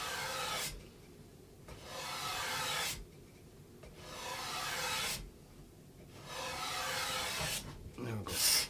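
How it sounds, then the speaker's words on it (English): A cabinet scraper takes even swipes along an ash flat bow, making four rhythmic rasping strokes with short quiet pauses between them, close and fairly soft. "we're just going to take even swipes, if you will, off the boar with the cabinet scraper"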